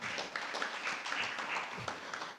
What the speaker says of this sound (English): Another round of applause for Lisha.